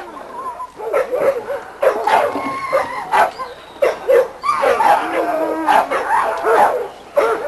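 Six-month-old littermate dogs in a yard bark, yip and whimper in repeated bursts, loud and close, with several short barks overlapping throughout.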